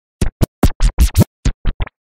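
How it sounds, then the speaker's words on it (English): Rough DJ scratching done with a computer mouse in Virtual DJ, nine choppy bursts of scratched sound over two seconds, loud and uneven with abrupt cutoffs and silent gaps between strokes. "Before I learned that, I used to scratch using my mouse."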